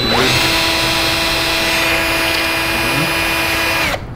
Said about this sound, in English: You wanna hand me the drill, or are you ready to drill?